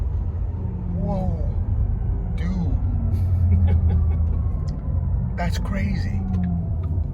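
A Porsche Taycan Turbo S electric car in Sport Plus mode accelerating hard, a steady deep rumble under the cabin with people exclaiming over it.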